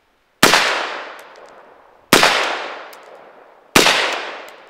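Three loud, sharp unsuppressed shots from a 7.5-inch .223 rifle with an adjustable bolt carrier group, each a close crack followed by a long decaying echo, spaced roughly two seconds apart.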